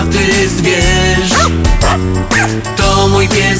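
A dog barks in a loud Polish children's song about a pet dog, with the barks and yips set rhythmically into the dense music.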